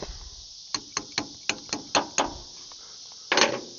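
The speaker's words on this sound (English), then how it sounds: "Give it a little tappy tap." A part on an old K20 pickup truck being tapped with a hammer, a series of about eight sharp knocks at a quick, slightly uneven pace, then a louder double strike after a short pause, close and clear with no talk.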